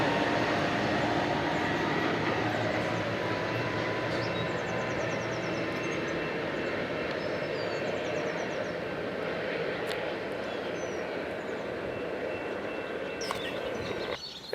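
A Metrolink commuter train rumbles steadily past in Simi Valley, a broad continuous roar of wheels and engine at close range holding level for the whole stretch, with faint squeals above it.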